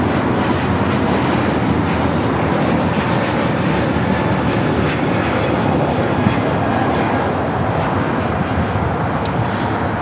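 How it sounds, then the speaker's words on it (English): A Spirit Airlines Airbus A321neo bound for New Orleans takes off from LAX with a loud, unbroken jet engine roar that stays strong and steady throughout. "This is Spirit Airlines 612 taking off to New Orleans on the A321neo."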